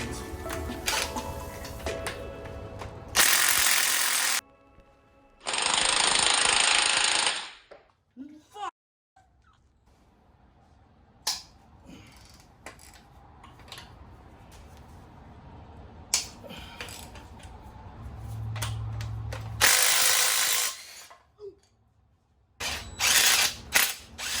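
Ratchet wrench with a 14 mm socket backing off the alternator bracket bolts on a Honda B-series engine block, heard as bursts of rapid clicking with short pauses and scattered tool clatter between them.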